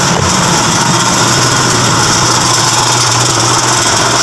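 A car engine idles steadily and loudly up close, a constant humming rumble with a faint vibrating rattle and no other sounds.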